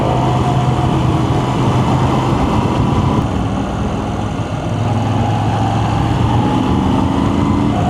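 A CF Moto NK motorcycle rides away, its engine a steady loud droning rumble with a slight pitch change as it pulls off, filling the whole stretch with constant road and engine noise.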